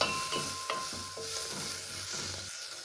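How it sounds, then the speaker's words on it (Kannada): Onions fry in a pan for cabbage kootu, giving a low, even sizzle broken by several light spatula scrapes and taps at irregular intervals. "ಹುರಿದಾದ್ಮೇಲೆ ಈರುಳ್ಳಿನ ಹಸಿ ವಾಸನೆ ಹೋಗೋ ತನಕ ಹುರಿಬೇಕು."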